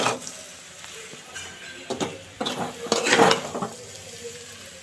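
Egg noodles tossed with fresh coriander leaves in a pan, a soft sizzle under several scraping, clattering stirring strokes that grow busier toward the middle, with no talking.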